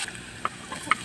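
Garlic fries in cooking oil, a soft, faint sizzle broken by a couple of brief clicks from a spoon against the pan.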